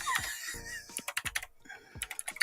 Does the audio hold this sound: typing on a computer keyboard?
yes